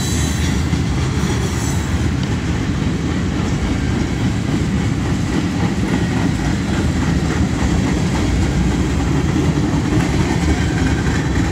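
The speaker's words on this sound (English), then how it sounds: "It's a nice rail box car." A freight train of rail box cars rolls past continuously for the whole stretch, with a loud, dense rumble of wheels on track and faint rhythmic clatter, and no voices.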